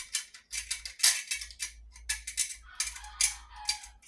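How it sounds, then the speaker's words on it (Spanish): A screw is turned into a TV antenna mount, giving close, quiet rapid ratcheting clicks in short bursts over a low hum. "busca el tornillo superior, introduce el tornillo"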